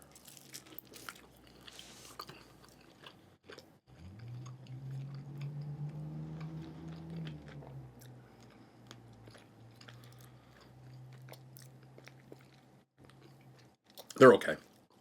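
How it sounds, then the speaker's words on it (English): Someone chews a bite of plain, unsauced buffalo wing from a diner, close to the mic, with soft rhythmic chewing lasting several seconds and a louder clatter near the end. "First bite with no sauce."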